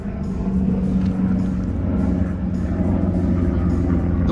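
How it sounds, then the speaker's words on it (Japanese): Steady low rumbling engine drone with a throbbing hum, continuous and fairly loud, like a helicopter passing overhead. "ヘリコプターが来ましたね。"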